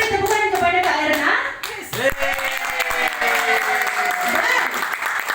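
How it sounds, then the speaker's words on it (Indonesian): Audience applause at a talk or sharing session, dense clapping spread across the whole stretch with voices rising over it near the middle, loud and close. "Kita beri tepukan kepada Kak Erna"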